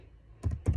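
Computer keyboard keys pressed while entering an ID into Excel, two pairs of crisp close taps separated by a short pause, with a quiet background and no speech.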